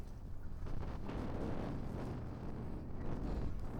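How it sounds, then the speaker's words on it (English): Strong wind buffeting the microphone on the Limassol coast in Cyprus, a loud continuous low roar with gusting surges and waves beneath, no talk. "It's too windy though, it's too windy."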